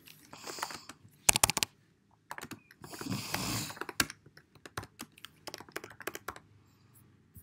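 Git command being typed on a computer keyboard: bursts of close, quick keystrokes in uneven runs, with pauses between groups and a few louder clacks.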